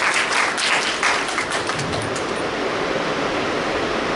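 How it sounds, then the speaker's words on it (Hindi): Loud, dense clapping from a room full of mothers at a Mother's Day programme on the role of mothers in a happy, healthy family, a continuous roar of hands with no talking over it. "तो एक बार जोरदार आप सभी आज अपने लिए तालियां बजाएं।"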